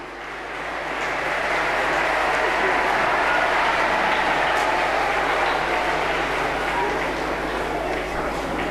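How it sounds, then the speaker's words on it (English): Loud, sustained audience applause at a school Children's Day program at Montfort School Anakkara, swelling in over the first second and holding as a dense, even roar of clapping. "Give him too a round of applause."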